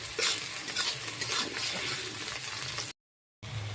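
Spice paste frying in oil in a wok for duck curry: a steady close sizzle with spatula stirring and scraping, briefly cut to silence, no talking.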